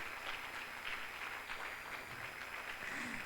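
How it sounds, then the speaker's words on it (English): Sustained, faint applause from an audience greeting an ambassador at a welcome gathering, a soft, even patter of many hands heard from a distance. "Don't stop clapping until she gets here"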